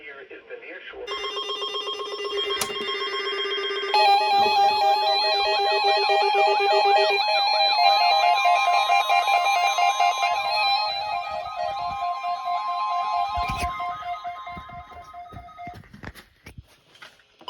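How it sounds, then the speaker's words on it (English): A NOAA Weather Radio warning alarm tone test: a long, steady, piercing electronic tone with shrill warbling overtones, sounding loud and continuous for over ten seconds before cutting off. "This concludes the test of the No Weather Radio warning alarm device."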